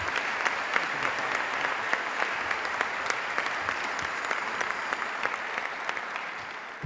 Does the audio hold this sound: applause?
yes